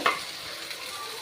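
Onions sizzling steadily in hot oil while being stirred in a pan, with a brief scrape at the start over the continuous frying hiss.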